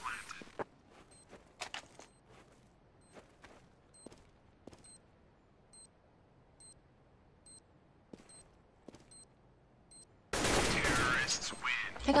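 Sharp, scattered gunshots ring out in a CS:GO competitive match, isolated cracks spread across the stretch with quiet gaps between, ending in a loud burst of noise.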